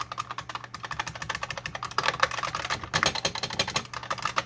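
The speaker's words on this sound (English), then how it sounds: "if you've never heard the Model M, it's really loud." Rapid typing on a loud IBM Model M keyboard, each keystroke a sharp, heavy clack in a dense, uneven stream heard up close with no talking.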